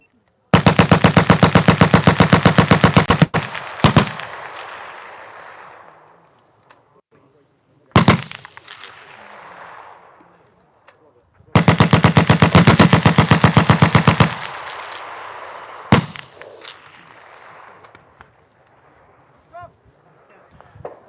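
Great War period Vickers machine guns fire at a commemoration of the Machine Gun Corps, with two long, loud, rapid bursts of evenly spaced shots separated by a few isolated single cracks and echoing pauses.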